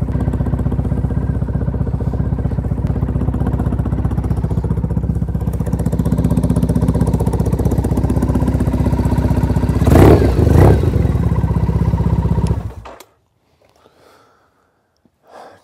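A 2004 Triumph Thruxton motorcycle engine runs close by at a steady, throbbing idle for about twelve seconds, then shuts off abruptly into near silence.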